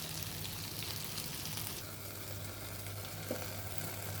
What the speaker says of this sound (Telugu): ఇలా అలాగా ఫ్రై చేద్దాం బాగుంటుంది